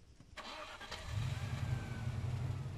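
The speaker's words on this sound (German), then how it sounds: "ich fahr mit dem Auto jetzt hin" Car in Arma 3 starting up and driving off, a short crank followed by a mid-pitched engine rising into a steady rumbling run, close and alone.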